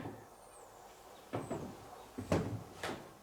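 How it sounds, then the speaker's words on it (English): An old wooden floor in a room in old South Africa creaks and knocks underfoot, four or five separate groans spread over a few seconds, close by against a quiet background. "So very creaky floors."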